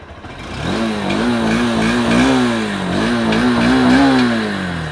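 A Honda Hornet 2.0 motorcycle engine starts up close by and revs repeatedly, its exhaust note climbing and falling in loud, steady waves with no talk over it.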